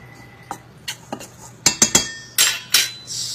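A utensil stirs glutinous rice flour and sugar in a bowl, making sharp irregular clinks and scrapes against the bowl, growing louder and quicker toward the end, with no talking.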